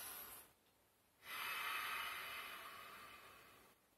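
A single deep, breathy inhale through the nose during an upper-body exercise, close and fairly quiet, preceded by a brief short breath and a pause.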